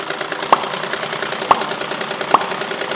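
A sewing machine stitches along cloth edges with a steady mechanical hum and a sharp click about once a second, close and fairly loud.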